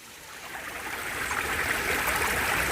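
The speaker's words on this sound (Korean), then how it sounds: "졸졸졸졸졸졸 시냇물 소리하고" A babbling stream runs through a high mountain valley in Gyeonggi-do, its steady, close rush of water flowing without pause and with no voices.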